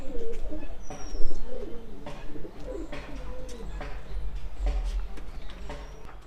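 Pigeons coo repeatedly in a coop, soft throaty rolling calls close by with scattered flutters and chirps, no talking.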